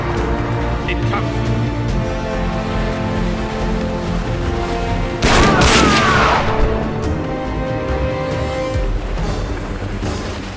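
Battle gunfire from the Equestria at War strategy game, a dense sustained rattle of shots and booms with a louder burst of blasts and crashes midway, set under steady background noise.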